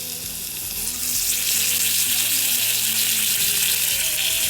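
Tempering (oggarane) sizzles loudly in hot oil, a dense, steady crackling hiss that swells after the first second and holds close and continuous.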